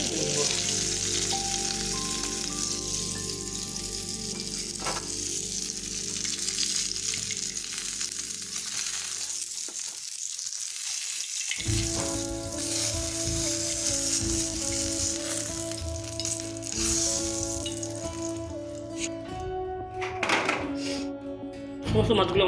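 Pieces of bata fish fry in hot oil in a pan with a steady crackling sizzle; a brief lull in the middle gives way to renewed frying, with humming tones from the stove or background underneath.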